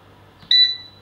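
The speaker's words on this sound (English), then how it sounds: "It's irritating that the beep can't be turned off" An air fryer gives a single loud electronic beep, a clear steady tone lasting about a quarter second over a faint background hum.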